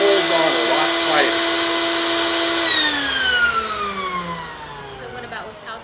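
A steady mechanical hum from an Oil Filter Buddy tool drawing a vacuum on an oil filter, loud and close, sliding downward in pitch as it runs and fades.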